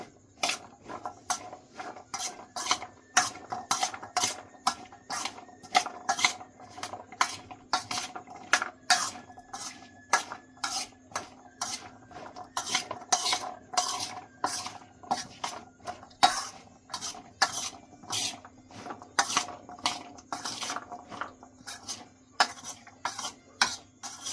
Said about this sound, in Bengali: মেখে নিচ্ছি সবগুলো একসঙ্গে।